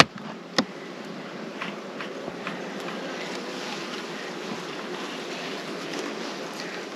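A swarm of honey bees buzzes steadily inside a hive, a dense continuous hum, close and even throughout, with a sharp knock early on.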